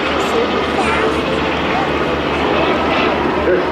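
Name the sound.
UH-60 Blackhawk helicopter flying at airshow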